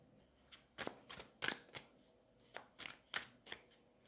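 Tarot cards are handled and shuffled close by, giving a series of quick, crisp riffling bursts in an uneven rhythm, soft overall with quiet pauses between them.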